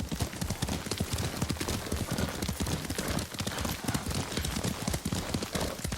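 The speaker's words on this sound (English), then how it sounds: "Lord Sakai taught me to ride a horse." Horse hooves clip-clop at a steady riding rhythm in the samurai video game Ghost of Tsushima, the rapid thuds fairly close and continuous, with faint background game ambience.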